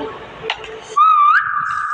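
A voice speaks briefly, then a clear, sustained whistled note rises slightly and holds steady for about a second, close and loud.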